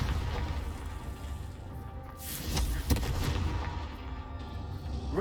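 Confringo fire spell exploding in the video game Hogwarts Legacy, a booming blast rising from a steady rumbling game background with a sharp crack near the middle, no talk over it.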